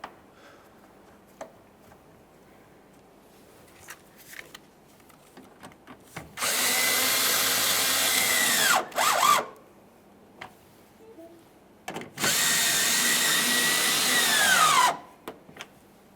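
Power drill driving two bolts into a bumper trim panel bracket on a 2015-2020 Ford F-150: two sustained loud whirring runs of a few seconds each, ending with a falling whine, separated by a pause with small handling clicks.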